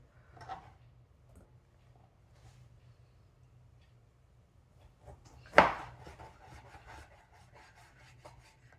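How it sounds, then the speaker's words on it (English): A knife slices pork belly thinly on a cutting board, with faint scraping strokes and one loud, close cut standing out in a quiet kitchen. "Now it's all cut into thinly sliced."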